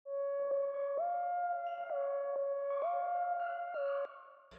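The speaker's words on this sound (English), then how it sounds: "And then I added this kind of pad slash lead sound." A synth pad-lead sound run through the Effects Fragments plugin plays a sustained melody of held notes with slight pitch glides between them, steady and moderately loud, with a shimmering echoed tail and no talking.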